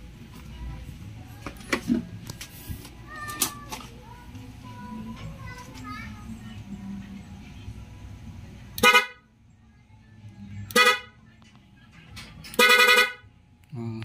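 A PIAA car horn wired through a relay interrupter blares three times in short bursts, the last one longer, after a stretch of faint talk and background noise.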